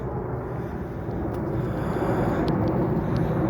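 An airplane passes overhead outdoors near a planted willow arch, a broad, steady rumbling roar that builds gently and stays loud throughout.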